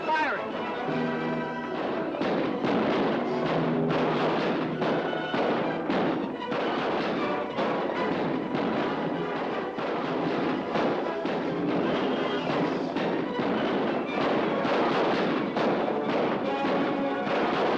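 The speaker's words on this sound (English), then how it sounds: "Barrack your cannons and start firing." Dense, continuous booming and cracking fire with overlapping blasts, loud and sustained throughout, with shouting voices mixed in.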